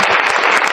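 Audience at a Royal RCM business seminar claps loudly and steadily in a short, dense burst of applause with no voices over it.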